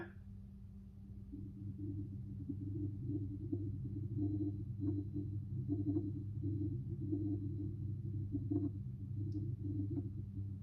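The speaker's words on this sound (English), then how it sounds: "the most commonly reported noise is a low-frequency hum that persists in the area" A persistent low-frequency hum, a steady drone that never lets up, with faint scattered clicks and blips over it; moderately quiet and unbroken throughout, with no talking.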